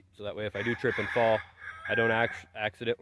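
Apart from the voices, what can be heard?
rooster crowing in the background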